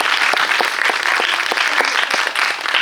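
Sustained applause from a sizable cinema audience at a Korean film screening's guest talk, welcoming the screenwriter; dense and steady for the whole stretch, with no one speaking over it.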